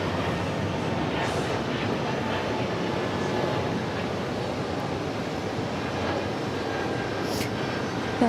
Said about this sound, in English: Flight 53 heading off to West Palm Beach in an A220.